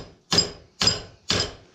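A hammer strikes hot metal clamped in a vise at a blacksmith's forge, three sharp ringing taps spaced about half a second apart, close and clear with no talk.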